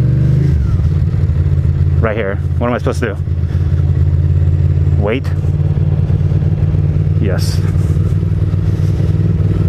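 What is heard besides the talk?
motorcycle idling and revving in stopped city traffic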